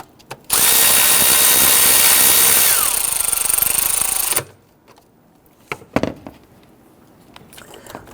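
A power tool whirs steadily for about four seconds while snugging knock sensor bolts on a 2011-2014 Kia Sorento engine, loud and close, then stops, followed by a few clanks and taps of handling.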